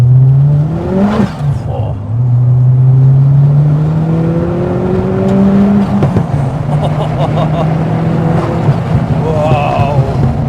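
A Ford Fiesta RS Turbo accelerates hard on the road, its engine note rising steadily through gears from inside the car, with a brief exclaimed voice.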